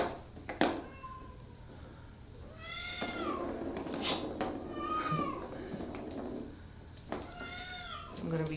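Young kittens meow repeatedly indoors, a series of high, rising-and-falling cries in several separate bursts, some close and loud, over a low background hum with no one talking.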